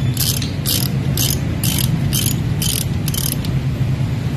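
A torque wrench ratchets on bolts during a Toyota Revo 2L engine overhaul, giving about seven quick, evenly spaced clicking bursts over a steady low workshop hum, with no talk.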